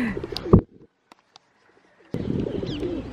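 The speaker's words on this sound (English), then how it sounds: "Take a look at the pigeons." Pigeons coo nearby in London, a soft throaty call at the start followed by a quiet gap and then a steady stretch of overlapping cooing.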